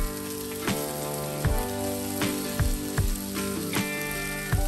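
Shrimp and frankfurter sizzle steadily in a hot pan for fried rice, with several sharp knocks and clatters of a utensil striking the pan at irregular intervals over the continuous hiss.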